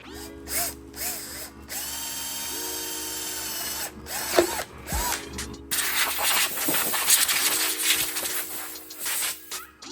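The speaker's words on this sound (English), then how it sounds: "We have our drill spot over there. Let's get drilling." A power drill whirs in several bursts at steady pitch, stopping and restarting, followed by rougher grinding as the bit bites into material, drilling a mounting hole on a Kawasaki Z900 motorcycle.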